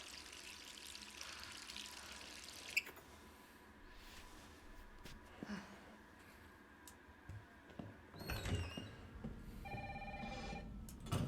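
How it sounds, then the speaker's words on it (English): An in-game telephone rings in Resident Evil 3 Remake, heard as faint, quiet ringing bursts that grow busier toward the end, over dark ambient room tone with scattered clicks and no talk. "Oh, the phone. Who could that be?"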